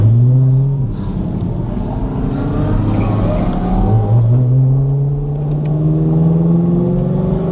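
A C8 Corvette Z06 engine revs loudly close by on a late-night drive in Miami, its pitch climbing and falling through repeated sweeps over a steady, heavy rumble.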